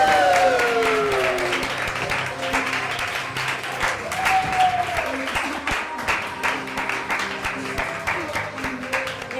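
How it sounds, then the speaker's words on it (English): Audience applause welcoming Kenji Yamamoto on stage at a talk event: sustained, fairly loud crowd clapping over several seconds with some voices and whistles mixed in, slowly easing but continuing throughout. "So please give an applause to Kenji Yamamoto."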